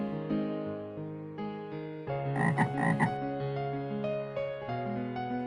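A frog croaks repeatedly in a steady rhythm, close and clear, with no talking over it.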